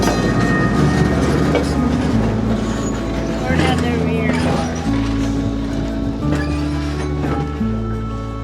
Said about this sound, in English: we're going to try out the Astoria trolley today. It runs along Riverwalk